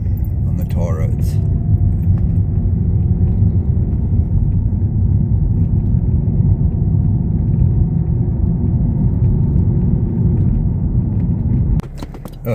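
A car cruises along the tar-surfaced N2 highway, its tyre and engine rumble loud and steady from inside the cabin for most of the ride, with a brief voice and a clatter near the start and the end.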